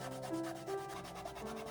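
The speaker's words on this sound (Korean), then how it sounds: "전체적으로 사포질을 해주고 가능한 눈에 보이는 곳 위주로 사포질을 합니다." Sandpaper is rubbed over the surface of a handmade smartphone stand in quick, repeated back-and-forth strokes, a close, even scratching rasp with no talking.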